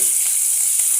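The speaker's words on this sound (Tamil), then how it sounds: "வெங்காயம் போட்டுக்கணும்." Onion sizzles in a frying pan for beetroot chutney, a brief, steady hiss heard close up.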